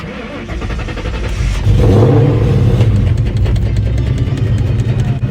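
A 1998 Mustang Cobra engine revs through its exhaust, the rumble swelling into a loud, deep roar and holding steady close by, with little else heard.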